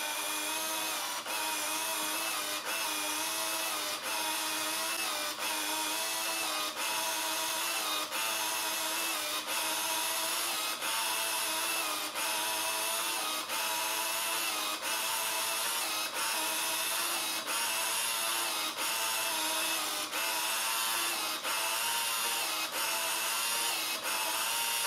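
A Sharp CE-129P printer dock for a PC-1403 pocket computer prints out a program listing with a steady, loud mechanical buzzing and whirring, broken by regular clicks roughly every second, going on without any talking.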